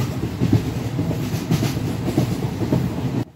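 A train rolls through Mukuria railway station in Bihar, its wheels clattering steadily over the rail joints in a loud, close, continuous rumble that stops abruptly at the very end.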